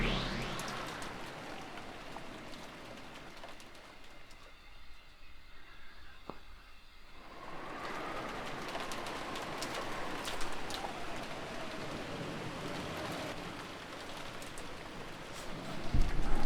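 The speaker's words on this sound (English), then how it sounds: "It was very quiet, filled only with the sound of the rain." Rain falls steadily in the Umineko visual novel game, a soft, even downpour that thins briefly partway through and then returns at full strength, with no voices.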